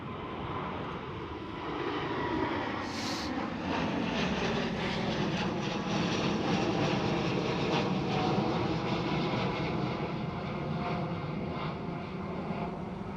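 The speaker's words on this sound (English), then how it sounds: "That's Delta Airlines Airbus A330-900." A Delta Airlines Airbus A330-900 airliner at Amsterdam Schiphol gives a continuous broad jet engine roar that holds steady and fairly loud throughout, alone with no voices.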